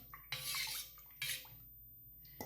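Buttermilk is stirred into cooked jowar flour in a pot. Two bursts of wet scraping and sloshing sound close by, separated by brief pauses, with a clink at the end and no voices.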